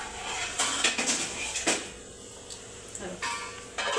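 A cluster bean vegetable is stirred in a metal cooking pan, the spatula scraping and clinking against the metal in irregular close bursts, with a voice faintly in the background.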